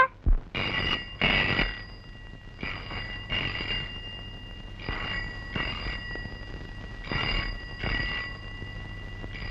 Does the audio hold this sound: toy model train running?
no